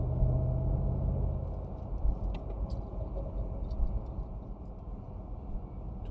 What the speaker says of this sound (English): Bentley GT V8 twin turbo. It's a 4-liter V8, active all-wheel drive